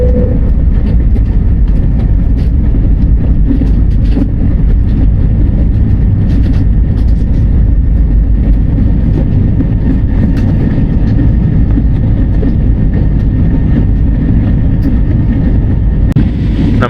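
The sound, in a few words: airplane taking off and flying overhead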